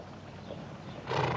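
A horse neighs briefly in an Old West scene, a short faint whinny near the end over low rumbling background, with no clear hoofbeats.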